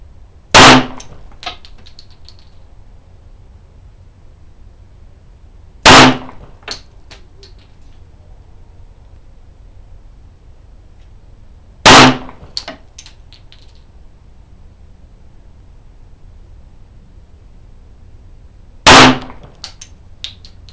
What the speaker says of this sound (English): That's 5 shots out of the Springfield-Armory Range Officer Champion.